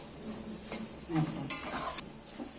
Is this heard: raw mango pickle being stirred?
yes